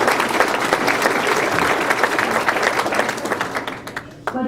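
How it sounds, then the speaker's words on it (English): Applause from a seated crowd at a chamber of commerce civic luncheon, dense and steady at first, then thinning out and fading toward the end. "And you could clap for that too."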